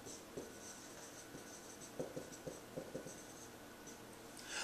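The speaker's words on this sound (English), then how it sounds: "I will write it here on the top" A pen or marker writes on a board in a quiet room, making soft intermittent squeaks and taps in short strokes with pauses between them, faint and near, with no talking.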